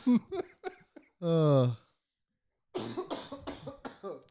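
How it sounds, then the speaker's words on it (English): A single harsh cough bursts out between stretches of nearby conversation, followed by a short pause before the talking resumes. "the cough is still there"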